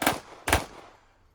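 Two sharp pistol-style gunshots at a USPSA practical shooting match, close and loud, spaced about half a second apart, each with a short ringing decay and no talk.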